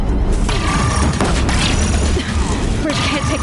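Heavy booms and mechanical clatter as Deathbringers fire on a bridge in a video game, loud, dense and continuous, with rumbling impacts and grinding metallic noise layered together.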